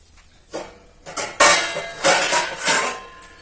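A ladle stirs tomato gravy in a metal pot, giving a few loud scraping, clanking strokes that come in uneven bursts close by, with no talking.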